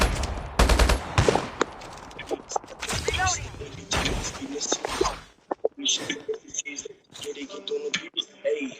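Bursts of rapid automatic gunfire and single shots ring out in an online battle royale video game, loud and close, with excited voices talking over the shooting.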